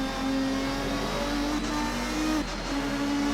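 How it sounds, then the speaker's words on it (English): A Dodge Viper's roughly 8-litre V10 in the Assetto Corsa racing game, a steady loud low-pitched drone of the engine holding revs with slight pitch shifts, continuous and close, with no talk. "that low burble of the Viper on that massive displacement V10"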